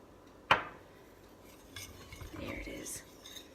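Bath bomb ingredients being mixed in a bowl, with one sharp clink of a utensil against the bowl, then softer scraping and stirring sounds and a brief higher clink, fairly quiet and close.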